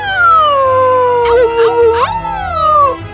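A dog howls loudly in a long, wavering tone, pitch sliding down and rising again, with brief yips in the middle.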